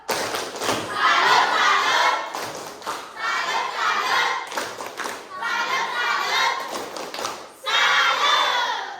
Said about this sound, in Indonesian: beri dia tepuk salut